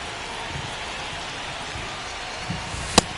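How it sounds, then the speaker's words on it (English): Steady rain pours over a baseball stadium in MLB The Show 25, a continuous soft hiss of falling drops with a brief sharper spatter near the end, no voices. "This rain is not letting up."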